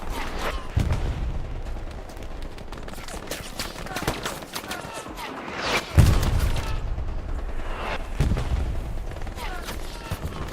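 Gunfire in the video game Hell Let Loose during a competitive match on the Hürtgen Forest map, including machine gun fire, with bursts and booming shots of varying distance over a busy battlefield background.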